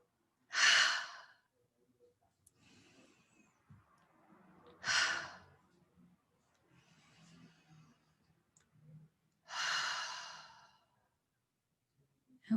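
Slow, deep breaths during yoga practice, three long audible exhales spaced several seconds apart, each rising and fading softly, with quiet inhales and near-silence between them.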